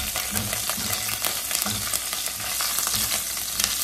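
Green chilies and curry leaves frying in a hot pan, a steady loud sizzle with occasional stirring scrapes throughout.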